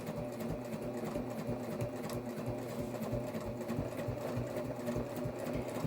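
A sewing machine runs steadily at a slowed pace, top stitching along the seam of a messenger bag pocket with a lengthened stitch, a continuous close whir with no pauses.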